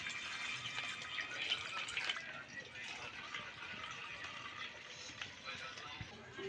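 Milk is poured into a pan of water on the stove, a continuous close liquid trickle and splash that fades slightly after the first couple of seconds, with faint kitchen handling sounds.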